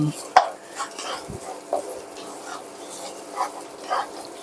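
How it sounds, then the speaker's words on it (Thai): Curry paste and shrimp paste stir-fried in oil in a pan for a Southern Thai squid and long-bean dish, heard as faint, sporadic scrapes and clinks of a utensil against the pan. "ใส่พริกแกงและกะปิ ละเลง ให้สุกหอมเหลืองหอมน่าทานก่อนนะครับ ผัดไปเรื่อยๆครับ"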